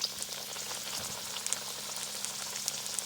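Egg rolls fry in a pan of oil with a dense, even crackling sizzle and scattered sharp pops, close but fairly quiet, steady for three seconds with no voices.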